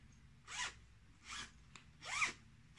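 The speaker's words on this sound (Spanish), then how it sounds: "Una cremallerita también que es bastante maja. Se abre muy bien." Three quick zipper pulls on a Shein fabric storage bag with a clear plastic window, each a short rasping zip, close and quiet in an otherwise still room.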